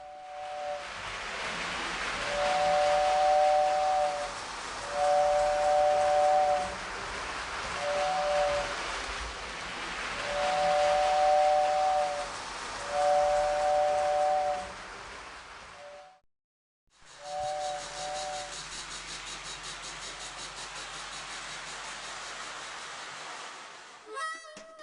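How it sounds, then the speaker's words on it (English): An old-fashioned toy standard gauge train rolls with a steady clickety-clack over the track while repeated two-tone steam whistle blasts sound over the rumble, with a brief pause before the run resumes. "the sound of a toy train clickety-clacking over the track, and the sound of an old-fashioned toy train steam whistle"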